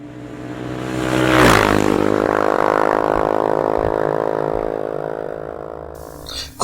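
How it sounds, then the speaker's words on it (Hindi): A scooter engine catches and revs up as it speeds away in a Hindi horror-story sound effect, a loud rising whine that peaks early and then holds steady before fading near the end. "सौभाग्य से उसका स्कूटर चालू हो गया और वह तेजी से अपने घर की ओर बढ़ने लगा।"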